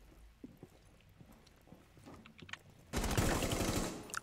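Video game gunfire, scattered faint shots early on, then a loud sustained burst of rapid automatic fire filling the last second and a half.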